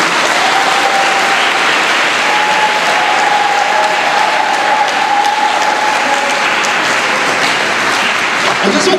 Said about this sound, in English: So let's just give one big round of applause to all those who made presentations.